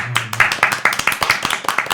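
A short burst of hand clapping, several quick sharp claps in an uneven rhythm, close by.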